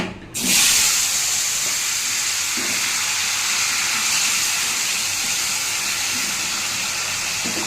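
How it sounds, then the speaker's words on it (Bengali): Potatoes drop into hot oil already used for frying paneer, a sudden loud hiss that settles into a steady, strong sizzle lasting several seconds. "এই তেলেই আলু ভেজে নিচ্ছি।"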